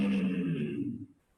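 A sudden inhalation drawn through a constricted throat as a breathing exercise: a short, loud, raspy, voiced rush of air lasting about a second, close to the listener and fading quickly into quiet.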